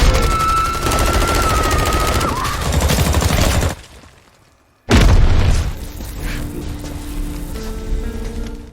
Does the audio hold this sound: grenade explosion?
yes